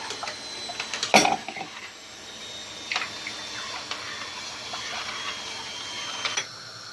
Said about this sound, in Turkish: Kaynayana kadar karıştırıyoruz ki kesmesin.